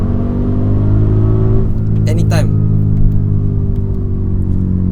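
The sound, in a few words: Audi RS Q8 4.0L V8 twin turbo engine revving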